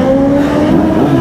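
Motorbikes rev loudly up close near the Leopard Trail in Gurgaon, a brief throaty engine roar with rising pitch as they pull away.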